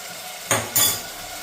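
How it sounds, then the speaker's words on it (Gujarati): Tomato and onion paste stirred in a hot pan, two quick scraping, sizzling bursts of stirring close by against a quiet background. "બે મીડિયમ સાઈઝના ટમેટાની પેસ્ટ અને 2 કાંદાની પેસ્ટ એક સરખું સરસ પાકે ત્યાં સુધી આને પાકવા દઈશું"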